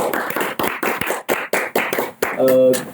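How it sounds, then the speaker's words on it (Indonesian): Quick, rhythmic hand claps from a small group at a casual educational talk show with crew present, close and fairly loud, ending with a short tonal sound. "Oke, tepuk tangan dulu."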